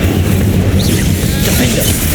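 The Incendio fire spell is cast in Hogwarts Legacy as a loud, dense whooshing roar of flame that holds steady throughout with no clear pauses, mixed under game ambience.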